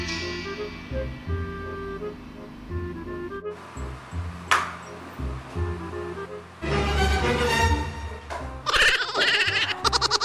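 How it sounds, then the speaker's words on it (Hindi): A mobile phone rings again and again with a melodic, tonal ringtone, a series of chiming notes that keep starting and stopping, growing louder and busier toward the end, close by and with no talking. "किसी का फोन आ रहा है बार बार"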